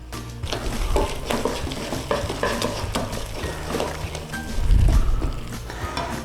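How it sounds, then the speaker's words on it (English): Spoon stirring and scraping as an egg mixture is mixed into flour, faint clinks of utensils against a bowl, fairly close and steady. "we're just going to give this a little bit of a mix in."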